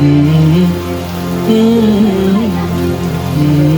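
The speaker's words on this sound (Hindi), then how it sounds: "खुशियाँ होती है जब कराची में बारिश होती है ना।" Steady rain in Karachi pattering on a surface, loud and continuous, with a tonal melody or voice-like hum weaving through it.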